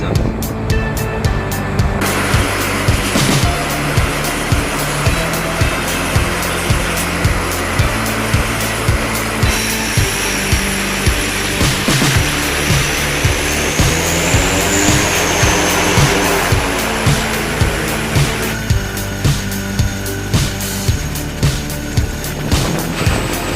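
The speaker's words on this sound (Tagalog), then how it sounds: "Yung helicopter na yan, no? Dalawang hélice" A twin-rotor military helicopter flies during a Balikatan exercise, giving a loud, continuous rotor roar with a steady rhythmic chop throughout, close and alone.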